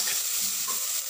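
Tomato and coconut masala frying and being stirred in a pan, a soft, steady sizzle with faint scraping, brief and close.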